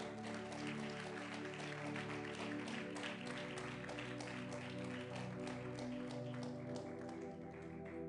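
Steady congregation applause fills a church, dense clapping running continuously over sustained held musical tones.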